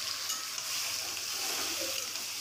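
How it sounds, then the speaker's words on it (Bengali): Sliced onions and panch phoron fry in hot oil in a home kitchen pan, giving a steady, dense sizzle and crackle that holds at an even level throughout with no talking. "এতে এই পেঁয়াজ পাঁচফোড়ন তেলানিত দিছং"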